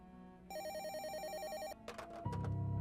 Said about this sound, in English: my phone rang again